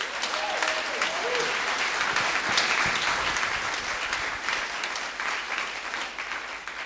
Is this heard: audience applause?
yes